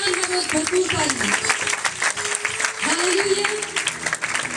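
Hearty applause from a church congregation during an evangelical service, steady and dense for several seconds, with voices carrying over the clapping.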